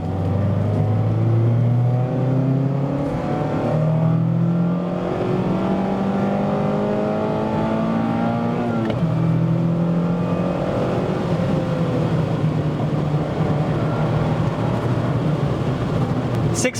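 A Mazda Miata ND3 sports car with a 6-speed manual gearbox accelerates through the gears, its engine note climbing in rising sweeps, dropping at each shift, then climbing again, loud and steady from inside the car.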